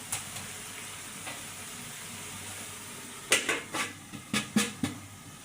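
Faint sizzling of taro frying dry in a covered pan, followed by a quick series of sharp spatula scrapes and clanks against the metal.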